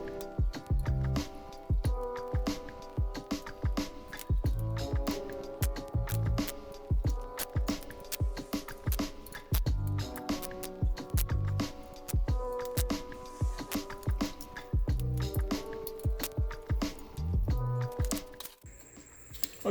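Torque wrench tightening the oil pan bolts on a Nissan 370z: a run of sharp ratcheting clicks in quick bursts, pausing briefly between pulls, close and clear, ending with a short gap.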